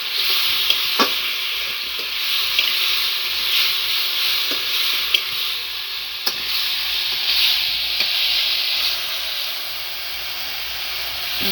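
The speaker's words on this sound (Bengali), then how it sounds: "মাছ ভাজা হয়ে গেছে" Fish frying in hot oil for a fish curry, a loud, continuous close sizzle and hiss with occasional sharp pops and crackles for over ten seconds, with no voices.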